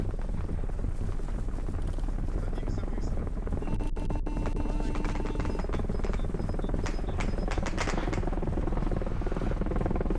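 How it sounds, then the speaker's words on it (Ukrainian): A helicopter in Arma Reforger, damaged and burning, runs as a loud continuous rotor and engine drone with dense low rumble throughout, mixed with game noise and occasional sharp clicks. "Наша вертушка працює за останніх сил"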